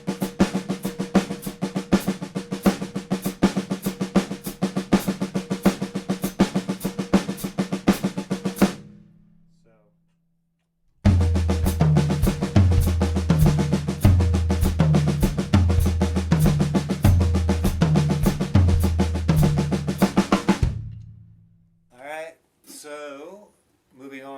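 Quick, even drum strokes repeat in a steady 5A sticking pattern from the Gary Chaffee sticking system, stop briefly, then resume with booming low toms cycling underneath before a voice speaks at the end.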